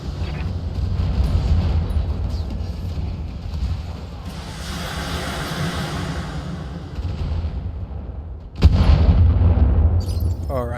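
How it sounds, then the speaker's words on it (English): Heavy weapons fire from several battle mechs in BattleTech, a dense rumbling barrage of booms and blasts, with a sharp loud impact near the end. "Firing on multiple enemies."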